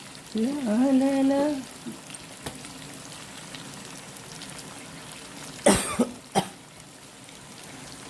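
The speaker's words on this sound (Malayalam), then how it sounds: "ചുമ വന്നു ഗൈസ്." A person coughs sharply a few times, close and loud, in a home kitchen while chicken fries in a pan. Soft frying sizzle continues underneath, and a brief hummed tune comes before the coughs.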